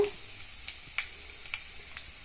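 Soft, steady sizzling of a spice tempering with turmeric frying in hot oil for amla pickle, with a few small pops and crackles scattered through.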